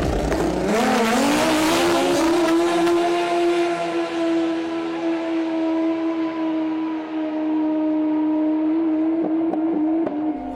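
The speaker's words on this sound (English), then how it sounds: "A turbocharged snowmobile that can do a quarter mile in just 8 seconds." A turbocharged snowmobile drag racing down a quarter-mile strip, its high engine note rising and then holding as a loud, sustained whine with a steady drone throughout.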